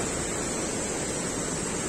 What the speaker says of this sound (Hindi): छोटा सा स्ट्रीम से पानी आ रहा है, और ये तो खैर मेन स्ट्रीम है ही पानी आने के लिए।